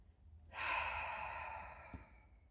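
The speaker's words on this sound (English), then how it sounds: "Intentionally making each exhale longer than the inhale." One long, deep exhale from a person doing slow, controlled breathing: a soft breathy rush rises suddenly, holds steady and fades over about two seconds, close and quiet with no talking.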